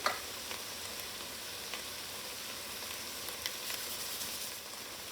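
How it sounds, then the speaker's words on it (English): Vegetables sizzle steadily in melted butter as they are stirred, a continuous frying hiss with faint scraping ticks from the utensil and no talk. "And as the butter melts, I'll just mix around the veggies."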